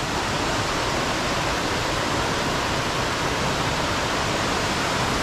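The Maniganga river pouring past a river crossing on the Adam's Peak route, a dense, unbroken roar of flowing water heard up close, steady and even throughout with no voices.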